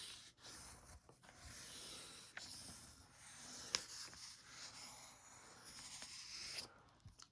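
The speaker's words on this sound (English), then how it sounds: "I'm going to use a brown color pencil for my brown skin." A brown colored pencil outlines a drawing on paper, making soft, quiet scratching strokes that come in short irregular bursts, close to the listener.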